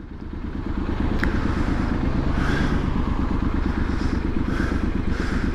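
Close, loud Triumph SS 900 motorcycle exhaust idling with a rapid, lumpy throbbing beat that rises slightly at the start and then holds steady.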